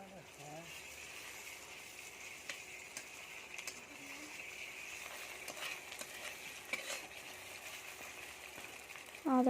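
Onions fry with ginger and garlic in a pan, making a faint, steady sizzle beneath scattered scraping and clinking from stirring, with a louder clank at the end.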